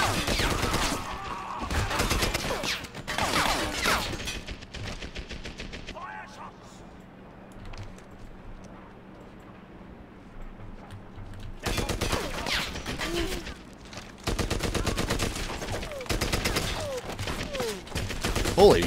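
Machine gun fire in Medal of Honor: Airborne, a World War II shooter, with loud rattling bursts of automatic fire that drop away to a quieter lull in the middle before the shooting resumes, while a player talks over parts of it.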